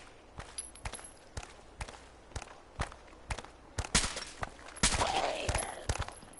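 Gunshots in the video game Fallout 4 against military soldiers and zombies, with a steady series of sharp, evenly spaced single shots, then a denser burst of louder fire with a short noisy swell near the end.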